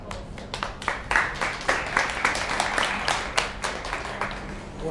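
A crowd breaks into steady applause, dense overlapping claps that swell after the first second and keep going without talk.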